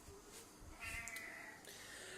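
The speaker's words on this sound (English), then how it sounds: "That's a cat again." A domestic cat gives a single faint, drawn-out meow in a quiet room, soft and at some distance, with no talking over it.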